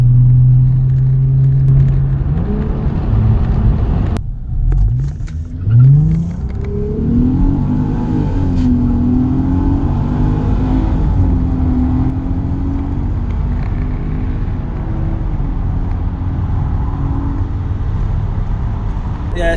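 A 3.2 V6 Audi A3 and an EP3 Civic Type R accelerating hard, loud engine drone rising in pitch through gear changes close up, with a brief dip and rumbling cabin noise throughout.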